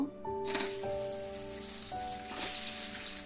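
Eggs fry in hot mustard oil with a steady hissing sizzle that keeps up for the whole stretch, joined by a faint tonal hum in the background.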